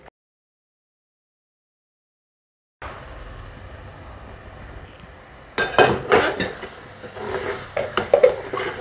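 Shredded cabbage tumbles into a cooking pot of simmering oil-rich tomato masala, followed by scraping and stirring clatter against the pot, after a silent opening.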